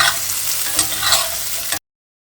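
Crispy yam slices sizzle steadily in a hot pan while being stirred, a close, continuous frying crackle lasting almost two seconds before cutting off abruptly.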